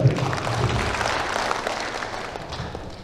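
An indoor audience at the opening ceremony of a court clerks' training event in Samarinda, East Kalimantan, applauds with a steady, even wash of clapping that fades slightly toward the end.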